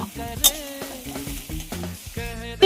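Grated carrots for halwa fry in a pan while being stirred, a soft sizzle broken by a series of scraping strokes and sharp clinks of the spoon against the pan, up close.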